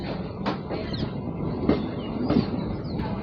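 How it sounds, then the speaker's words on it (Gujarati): A departing train rumbles along at a steady pace, heard from inside a carriage as a constant low rolling noise with faint clatter, moderately quiet and with no talk. "ટ્રેનમાં બેસી ગયા છે અને ટ્રેન ઉપડી પણ ગઈ છે."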